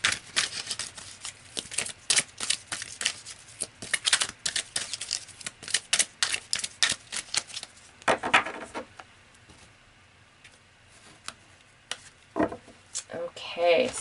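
Tarot cards are shuffled and pulled, making rapid close riffling and flicking clatter for several seconds. Quieter sliding and separate card snaps follow, with a soft voice at times in the background.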